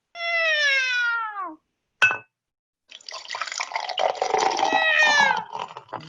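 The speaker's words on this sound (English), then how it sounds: "Yes, nobody is going to hurt you, little kitty." A young cat in a radio drama meows in a clear, descending cry, then a short sharp sound follows, and after a pause a longer run of mewing rises over a wet, dripping, splashy background.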